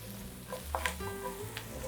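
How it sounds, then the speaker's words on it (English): Garlic frying in a pot with sizzling oil while cooking a one-pot pasta, a steady close sizzle with a few light clinks of stirring and no talking. "And you'll fry until it has a nice fragrant smell."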